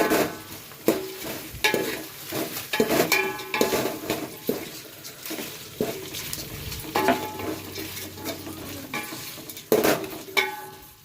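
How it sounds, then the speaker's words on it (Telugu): Spices fry in a pot for bagara rice while a spoon scrapes and knocks against the metal in repeated, uneven strokes over a soft, continuous sizzle, close and fairly loud. "ఇప్పుడు బాగా మిక్స్ చేయాలి."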